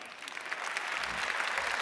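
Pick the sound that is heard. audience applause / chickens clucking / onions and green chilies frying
audience applause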